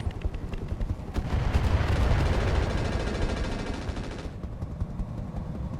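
Heavy and medium rifle fire from a mech in the game Roguetech, a dense rumbling barrage of booming shots that swells, holds loud for several seconds, then cuts off abruptly into lower background rumble.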